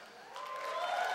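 Audience at a Just For Laughs comedy gala breaks into brief, building applause, a soft wash of clapping from a crowd that swells over about a second.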